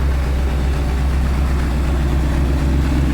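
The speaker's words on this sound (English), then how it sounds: "We're gonna have little clips all the way through here where you'll hear the car run." The engine of a 1932 Ford Roadster on a Boyd chassis runs steadily at idle nearby, a loud, continuous low rumble with a deep throb and no talking.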